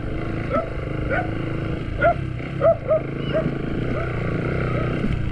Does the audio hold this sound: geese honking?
no